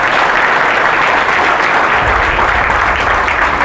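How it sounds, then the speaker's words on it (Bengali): Loud, continuous clapping from a room of coaching-academy students, a dense even roar of hands that holds steady throughout, with no talk over it. "খুব জোরে হাততালি দাও।"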